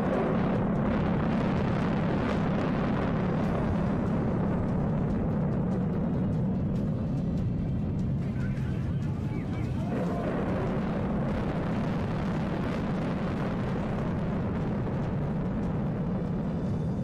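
Controlled explosive demolition of the Noida twin tower high-rise buildings, using tonnes of explosives, makes a deep, sustained rumbling roar that holds loud and steady for many seconds without any voices.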